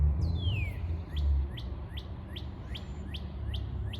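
Birds chirp repeatedly in a fenced backyard, short bright tweets recurring at a steady rhythm after an opening whistle-like call, moderately close over a low outdoor rumble.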